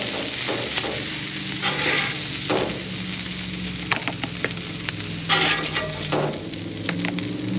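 Peppers for a cheesesteak sandwich cook on a hot grill, a continuous close sizzle broken by scattered scraping and clicking from a spatula, with no talking.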